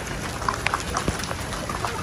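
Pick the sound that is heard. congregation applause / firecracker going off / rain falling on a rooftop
rain falling on a rooftop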